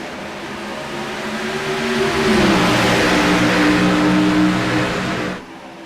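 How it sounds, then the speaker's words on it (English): NASCAR race cars accelerate on the green-flag restart at Texas Motor Speedway, a loud, close engine roar that swells and holds steady for several seconds before dropping off sharply at the end. "Oh, you gotta love the sound of those cars."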